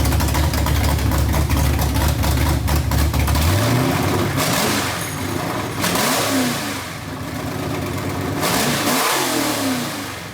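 A Ford F100 pickup's 302 V8 running on open headers, loud and close, idling with a lopey rumble, then revved repeatedly in rising and falling bursts, no voices.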